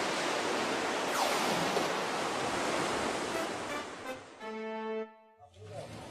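Sea waves wash in a steady broadband roar that swells and fades toward the end.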